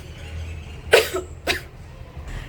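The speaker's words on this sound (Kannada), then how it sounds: "ಕೆಮ್ಮು" Two close, sharp coughs in quick succession from a person recovering from a cold with a blocked nose, with quiet room background before and after.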